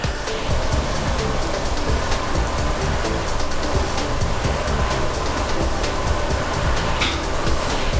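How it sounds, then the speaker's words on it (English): Milk and egg mixture poured over cooked sausage in a baking dish, a steady dense liquid splash and rush that runs unbroken and fairly loud throughout. "just pour it over the sausage."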